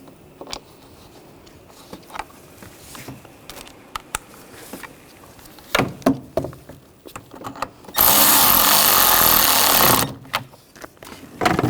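A power tool tightens bolts during a knock sensor replacement on a 2009-2017 Volkswagen Tiguan engine, a loud two-second burst of steady whirring amid scattered clicks and metallic clatter.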